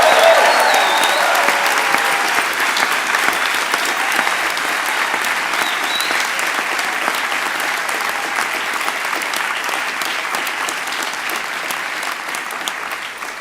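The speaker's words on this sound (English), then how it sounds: "So I think we should have one huge, big cheer for you." A graduation ceremony audience at the University of London cheers and applauds, a sustained, even wash of many hands clapping that fills the hall and slowly fades over several seconds.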